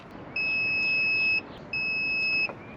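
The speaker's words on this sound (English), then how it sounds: "have the multimeter set to continuity" A multimeter set to continuity gives two steady electronic beeps across a car headlight fuse and wiring, each about a second long, sounding clearly one after the other over faint background hiss.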